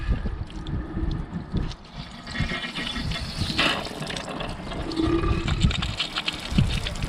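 Water from a garden hose flushing a Mercury 1.0L outboard engine, a constant rushing, gurgling splash, close and fairly loud, with no talk.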